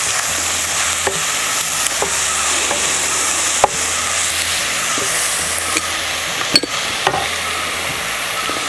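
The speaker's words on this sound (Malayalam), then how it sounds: "സബോള വേഗം ഒന്ന് വഴന്ന് വരട്ടെ." Onions sauté with eggs and salt in a pan for a tea egg roast, giving a loud, continuous sizzle broken by sharp clinks of stirring at irregular intervals.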